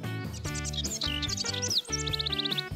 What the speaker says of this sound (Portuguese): Fluttershy está ensaiando com os pássaros.